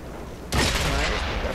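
A tank cannon fires in the online game World of Tanks: quiet background gives way to one sudden heavy blast, followed by a sustained roaring rumble that lingers and slowly settles.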